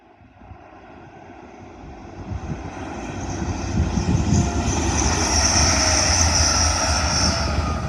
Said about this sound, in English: Passing through now will be a Grand Central Adelante from Sunderland to London King's Cross.